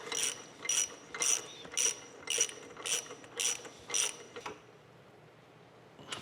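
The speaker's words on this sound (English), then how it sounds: "A couple of these bolts in place to kind of go ahead and get it clamped down." Ratchet wrench tightening bolts to clamp a bar on a steam stoker engine, eight quick evenly spaced clicking strokes, close and fairly quiet, then near silence.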